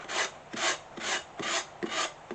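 Sanding block rasping away excess decoupage paper, held diagonally along a box edge, in five steady rhythmic strokes, close and clear with no talking.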